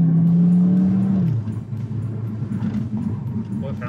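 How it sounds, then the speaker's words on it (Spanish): Engine of a 2021 Cupra Formentor holds a steady, loud, strained note that abruptly drops in pitch partway through, then settles into a lower, rougher rumble as it keeps pulling. "Voy a darle otro acelerón por ahí otra vez."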